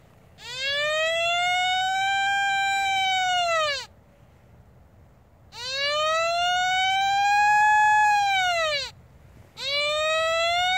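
An XP ORX wireless metal detector sounds a long tone for a large target: a sustained, bright electronic whine that swells and bends, repeating three times with short gaps between, loud and alone.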